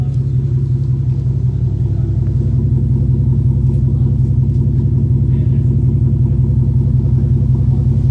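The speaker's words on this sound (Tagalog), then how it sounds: "you can still definitely hear the rumble sound" A Ford Mustang with a 5.0 V8 and an aftermarket exhaust idles with a steady, deep, loud rumble, heard up close and continuous throughout with no talking.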